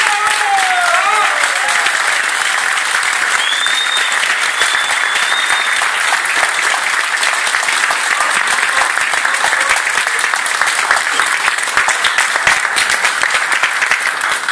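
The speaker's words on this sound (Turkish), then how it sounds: "Kendisini alkışlıyoruz, Abdullah Ecevit" Loud, sustained applause from a large audience at a Turkish talk roars continuously, with a few faint whistles rising above the dense clapping.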